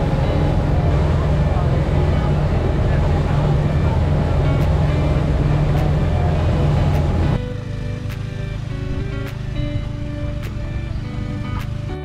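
A Mousa ferry boat ride in Shetland produces a loud, steady engine and water rumble that drops suddenly to a quieter hum partway through.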